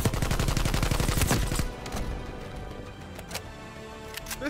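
AK-47u automatic fire in Black Ops Cold War: a loud, rapid burst of shots for nearly two seconds, followed by quieter scattered clicks and a few sharp in-game sounds.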